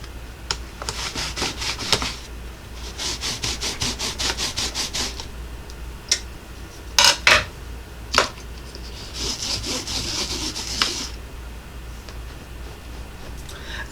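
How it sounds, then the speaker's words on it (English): Rubber stamps are scrubbed clean with rapid back-and-forth rasping strokes in steady rhythmic bursts, close and alone, broken by a few sharper knocks. "Let me scrub off some of my stamps over here."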